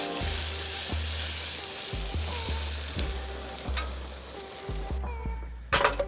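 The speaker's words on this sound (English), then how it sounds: "Next, we're going to brown our breakfast sausage." Breakfast sausage browns in a pan with a steady, close sizzle and occasional stirring, ending in a brief louder clatter near the end.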